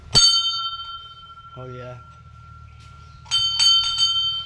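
A metal Hindu temple bell is struck close by, ringing with a long sustained tone, then rung again in quick strikes; a person speaks briefly in between.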